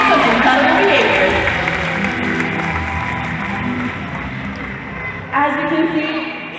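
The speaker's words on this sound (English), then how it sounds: "how about an amazing round of applause for all of you out there" Audience applause and cheering fill the stands at a SeaWorld Texas orca show, a steady crowd roar that eases slightly before a fresh burst near the end.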